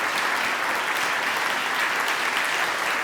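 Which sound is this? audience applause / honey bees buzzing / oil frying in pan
audience applause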